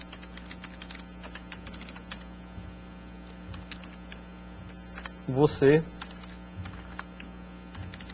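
Computer keyboard clattering with steady light key taps, with a brief louder burst of keystrokes midway, over a low mains hum while someone speaks Portuguese briefly.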